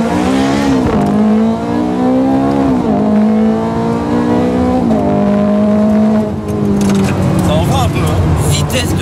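Ferrari F430 Scuderia accelerating hard, its engine climbing through several rapid upshifts with each gear rising in pitch, loud and close throughout, with someone talking over the roar.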